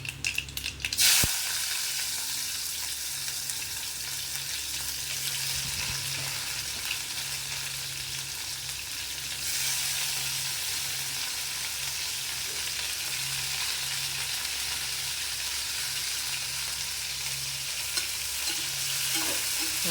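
Bitter gourd sautés in hot oil in a pan, giving a steady, dense, close sizzle and crackle that runs unbroken throughout, with a sharp knock near the start.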